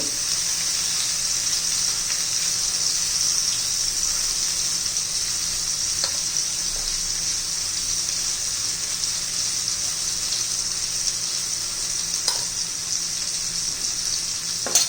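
Eggplant coated with garlic masala fries in a pan over medium heat, a steady, loud, hissing sizzle that runs throughout with a few faint clicks, with no talking.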